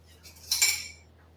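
A spoon scrapes and clinks once against a bowl while stirring peach crisp filling with lemon juice and spice, a brief close metallic swish over a quiet background.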